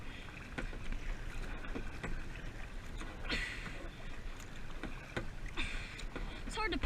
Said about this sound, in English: It's hard to paddle in this stuff too.